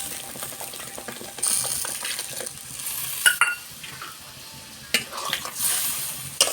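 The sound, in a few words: sautéing and stirring pabda fish curry in a pan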